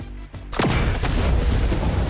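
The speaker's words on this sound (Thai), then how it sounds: "ปล่อยลูกไฟออกไปนะครับผม แล้วก็ไประเบิดเป็นลูกใหญ่ๆ เนาะ" A fireball skill from the Kitsune fruit in the video game Blox Fruits bursts into a loud, booming explosion that swells after a brief quiet gap and rumbles on without talk.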